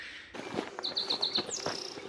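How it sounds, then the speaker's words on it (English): Small bird singing on a trail near Santa Fe, New Mexico: a quick run of bright, repeated chirps followed by a rising whistled note, close and clear over faint outdoor ambience. "The bird sat there for at least, I think maybe 15 seconds before it moved, and it's still singing right here."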